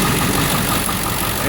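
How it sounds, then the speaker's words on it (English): A Ford F250/F350 pickup's 7.3L diesel engine idles just after starting, loud and close, with a dense, steady clattering rumble and no break across the short stretch. "Getting a little noisy out here with this big old diesel."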